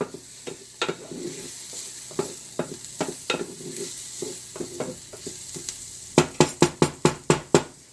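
Food fries lightly in a pan until translucent, with faint sizzling under repeated sharp scrapes and taps of a utensil stirring, ending in a quick run of louder evenly spaced strikes.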